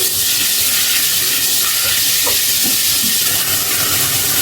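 Masala sizzling and frying in a pan for bake parlor style macaroni, a steady close hiss of hot oil throughout with no talk.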